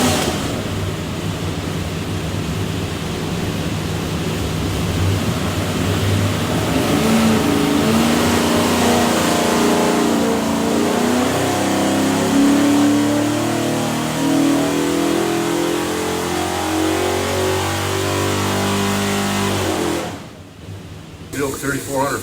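A Ford 408 stroker V8 fitted with an Edelbrock manifold and carburetor, destined for an '85 Ford F150, revs up loudly on a dyno, its pitch climbing steadily through a long pull before cutting off near the end.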